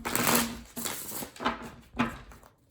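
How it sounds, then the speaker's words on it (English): A deck of tarot cards is shuffled by hand in four quick, soft riffling bursts, close and fairly quiet, with no talking. "I have to do another shuffle."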